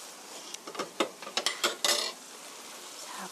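Japchae glass noodles seasoned with soy sauce are tossed and mixed in a bowl, giving a quick series of soft clinks and wet scraping bursts before the sound settles.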